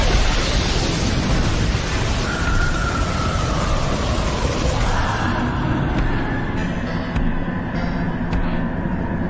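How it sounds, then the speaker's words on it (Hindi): A Fire Style Fireball Jutsu blast from a Naruto anime fight between Itachi and Sasuke, a loud sustained roaring whoosh of fire with a rising tonal sweep, fading into quieter crackles toward the end. "Fire style fireball jutsu."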